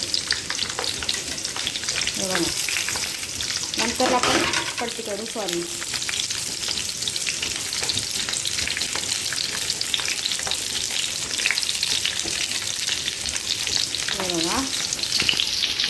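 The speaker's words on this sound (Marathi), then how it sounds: "भेंडी तव्यामध्ये टाकून घेतलेली आहे" Okra sizzles steadily on a hot griddle, a constant close frying crackle, with a person speaking briefly over it.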